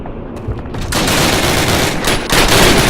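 Dense bursts of automatic gunfire in a Call of Duty battle, rapid overlapping shots building from a few sharp reports into a continuous loud fusillade.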